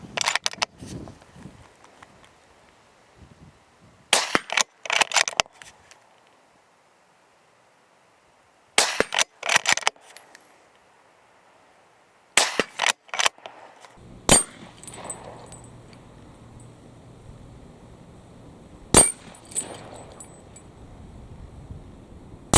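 Bergara B14 Crest Carbon rifle fired outdoors on a breezy range, several sharp separate reports spaced seconds apart with quiet gaps between, some followed by a faint metallic ring or clink.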